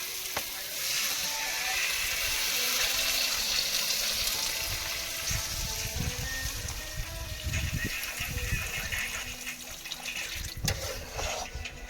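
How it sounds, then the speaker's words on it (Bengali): Water poured into a pot of vegetable curry cooking over a fire outdoors, a steady close splashing and hissing that runs for several seconds with no talk. "এবার জল দিয়ে দেবো"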